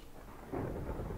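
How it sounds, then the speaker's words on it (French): Rain and thunder in the video game Minecraft: a low, rumbling thunder roll swells midway over a steady hiss of falling rain, heard alone with no talking. "je n'aime pas la pluie dans Minecraft"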